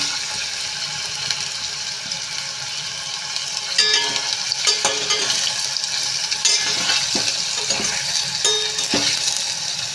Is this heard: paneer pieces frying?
yes